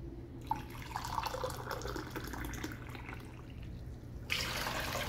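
Milk poured into a measuring cup at a home kitchen counter, a steady liquid splash and trickle running for several seconds, with a louder burst of pouring near the end.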